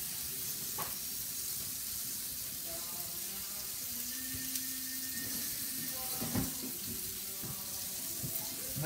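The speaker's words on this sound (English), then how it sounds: "And I want to wash my hand." Tap water runs steadily into a sink while hands rub and splash under the stream, with a few faint clinks nearby.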